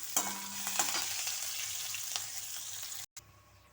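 Green chillies and curry leaves sizzle in a hot oil tempering, a steady close frying crackle with a few stirring scrapes, briefly cutting out near the end.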